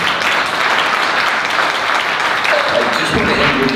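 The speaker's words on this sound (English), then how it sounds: "A big round of applause" An audience at a talk on humanoid robots gives a sustained round of applause, a dense, even wash of clapping that holds steady for a few seconds.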